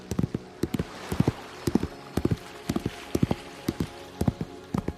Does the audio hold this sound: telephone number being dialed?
no